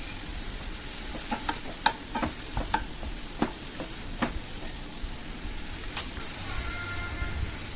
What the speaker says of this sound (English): Just saute it for a minute.